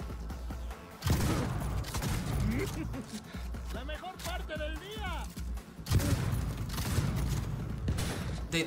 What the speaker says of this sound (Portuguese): Dei dois tiros na cabeça de escopeta.